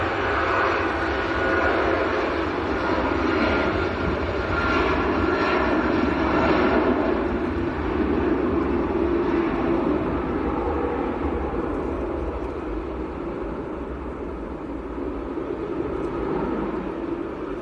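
A Privilege Boeing 777 jet departs Manchester airport with a loud, steady engine roar that holds strong throughout and eases slightly near the end, heard alone from a distance.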